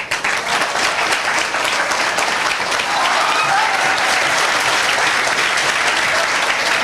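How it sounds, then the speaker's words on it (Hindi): A group of children clap over and over, a dense, steady burst of applause that fills the whole stretch without letting up. "तुम लोग बार बार ताली काहे बजा रहे हो"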